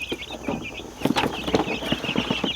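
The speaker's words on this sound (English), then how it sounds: "let's go ahead and get these chickens inside" Several chickens cluck steadily in a short, busy stretch, their calls overlapping at close range with some rustling in the background.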